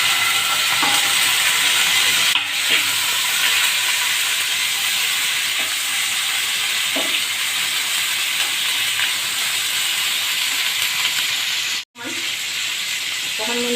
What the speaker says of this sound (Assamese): ইয়াতে মই এই পনীৰ কেইপিচ ভাজি ল'ম।